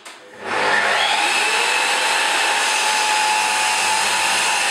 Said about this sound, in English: When I start the saw, the extractor's going. So I'm now going to do a few cuts